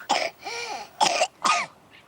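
A small child coughs several times in quick, wet bursts with short pauses between, close by and fairly loud.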